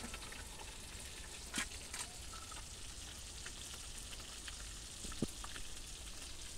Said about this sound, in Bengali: আমি এবার আলাদা চুলায় মাছ রান্না বসাই দিছি